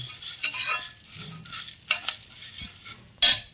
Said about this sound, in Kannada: ಇದು ಸ್ವಲ್ಪ ಬೆಚ್ಚಗಾಗಿ ಕೆಂಪುಗಾಗೋ ಹಾಗೆ ನಾನು ಹುರಿತಾ ಇದ್ದೀನಿ